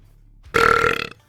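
A single loud, drawn-out belch lasting about half a second, rising abruptly from a quiet background and trailing off, with no talking over it.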